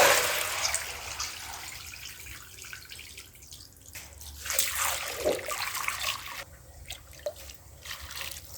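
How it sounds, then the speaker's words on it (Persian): Cool water runs and splashes into a container of sprouting wheat, a steady moderate pour with drips and trickles, alone without voices. "دوباره ظرف رو با آب خنک پر میکنم."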